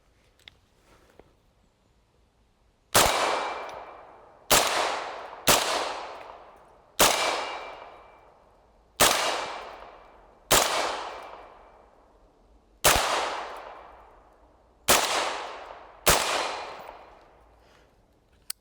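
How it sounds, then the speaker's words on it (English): Semi-automatic AR rifle fired with a Dead Air Sandman suppressor: ten sharp, evenly spaced shots, each with a quick decaying tail, loud and close with no talking. "we're going to start out with some semi-automatic fire"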